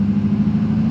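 A Duramax diesel truck fitted with a 5 inch exhaust tip rumbles with a loud, deep steady drone, a constant low exhaust note across the whole brief moment.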